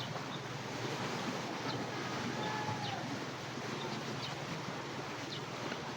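Strong monsoon wind blows at sea during night spearfishing in the Philippines, a constant roaring gust mixed with the noisy wash of waves, loud and unbroken and buffeting the microphone throughout.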